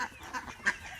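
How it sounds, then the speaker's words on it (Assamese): Domestic ducks at a rural home give a few short, nasal honking calls, close by, with one louder call standing out in a brief burst. "মোৰ এইকেইটা হাঁহ আছে"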